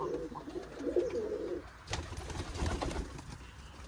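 Giribaz pigeons in a loft give a few soft, close coos, followed by rustling and fluttering movement.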